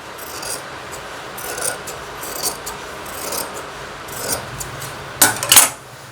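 Scissors cut through blouse fabric for a cross-cut blouse, giving soft rasping snips in a slow, regular series up close, ending with a couple of sharper, louder cuts.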